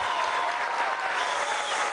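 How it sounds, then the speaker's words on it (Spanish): Applause at a Venezuelan government ceremony where Nicolás Maduro hands out credits and housing to young people; dense, steady clapping from a crowd fills the whole stretch at an even level. "Por favor, un aplauso a Mervin."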